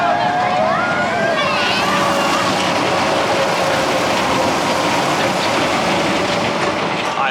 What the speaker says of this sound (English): Welcome to the Runaway Mine Train.